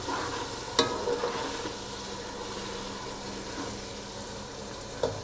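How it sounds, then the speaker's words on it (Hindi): Crushed red chilli and roasted crushed cumin stirred into a simmering pan for green chickpea pulao, a soft bubbling sizzle with a spoon clink near the start and end, no speech. "और अब साथ ही हम इसमें कुटी हुई लाल मिर्च ऐड कर देंगे और भुना हुआ कुटा हुआ जीरा। तो इनको भी मिक्स कर लेते हैं एक बार।"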